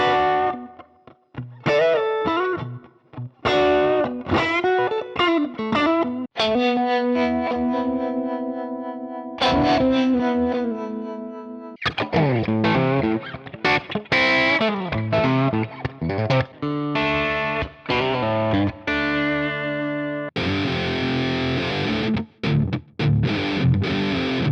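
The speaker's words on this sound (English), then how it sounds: "You can get these guitar sounds using this plugin and presets." Electric guitar played through S-Gear 3.0 amp simulator presets from Alberto Barreto's Player Pack Volume 2 moves from clean, echoing licks and sustained chords into crunchy distorted riffs, loud and up close for over twenty seconds.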